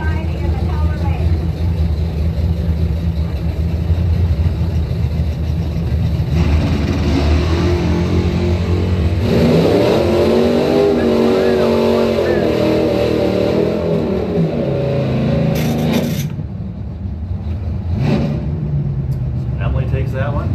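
Drag race cars launch and accelerate in a Pro Trophy round at a live Blue Oval Battle event, a loud sustained engine roar that swells in the middle and cuts off sharply near the end, with an announcer talking over it.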